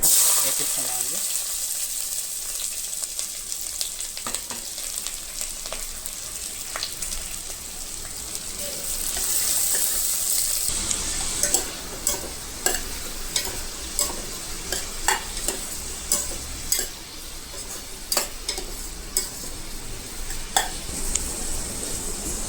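Thinly sliced onions and green chillies fry in hot oil for a layer chicken gravy. A steady, dense sizzle hisses throughout. Partway through, a rhythmic run of close scraping and clicking stirs joins in over the frying.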